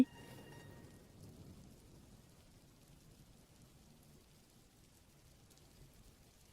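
Rain falls steadily as a faint, even hiss with soft patter, with no voices.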